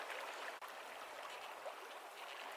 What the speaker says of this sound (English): The water is noisy too now with the wind blowing